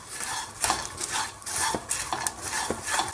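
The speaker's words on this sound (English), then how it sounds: "So now you need to keep stirring it." Golden raisins with pumpkin and sunflower seeds are stirred in a dry pan, a spoon scraping and rattling in a steady rhythm of strokes, close and moderately loud, with a faint dry sizzle.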